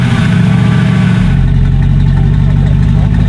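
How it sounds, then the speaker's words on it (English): A Mercedes-AMG G-Wagon engine rumbling loudly up close, a deep, steady idle that drops into a lower, heavier throb partway through, resembling an old hot rod. "this thing sounds like an old hot rod"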